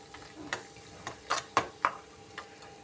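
A spoon stirring tomato pickle tempering in a pan, a handful of light irregular metallic clicks and taps, faint and close, with no talking.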